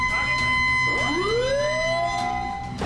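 A fire brigade engine's siren wails as the vehicle pulls away, a loud rising sweep that climbs and holds steady over engine and street noise.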